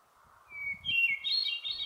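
A hermit thrush sings a few clear, flute-like phrases, the notes rising high and ringing over a low hum of background noise.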